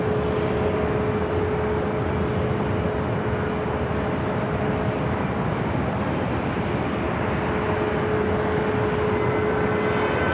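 SkyWest jet airliner departing Los Angeles International Airport, a loud, steady engine roar with broad rumble and a sustained tonal whine, constant throughout with no talking.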